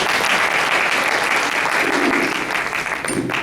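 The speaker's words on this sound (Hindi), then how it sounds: "आपने जो हमारे स्वागत में जोरदार तालियां बजाई" Audience at a Hindi comedy poetry gathering clapping loudly, a thick continuous burst of applause that holds steady for a few seconds with some crowd murmur mixed in.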